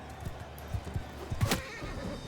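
A horse neighs in the Mount & Blade II Bannerlord battle, a short whinny standing out over a busy low rumble of hooves and combat noise.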